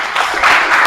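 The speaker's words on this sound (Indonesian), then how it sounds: "Tepuk tangan dulu untuk kita semuanya ya." Brief burst of classroom applause during a science lesson, steady crowded clapping filling the whole short moment at close, loud level.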